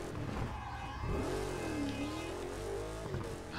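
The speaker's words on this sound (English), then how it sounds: "Man, this car's a piece of shit." A car engine in Burnout Paradise revs steadily and loudly throughout, its pitch rising and falling in smooth sweeps as the engine climbs and eases back, with no talk over it.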